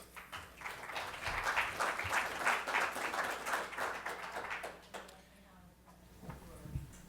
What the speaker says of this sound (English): please give a warm round of applause for David Kelley